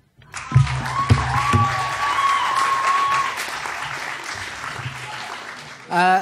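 Applause rises from the crowd at a university journalism awards ceremony after the Scoop of the Year prize, with a tonal sweep and brief voices over the clapping before a louder burst at the end.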